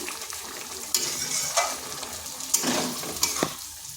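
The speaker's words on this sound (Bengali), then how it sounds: "তো এটাকে এইভাবে মিনিট 2 একটু নেড়ে চেড়ে নিচ্ছি।" Pumpkin stems fry in a pan for a vegetarian chorchori, with a close crackling sizzle and a few sharp spatula scrapes as they are turned. No one speaks.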